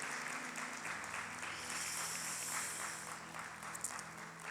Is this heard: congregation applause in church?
yes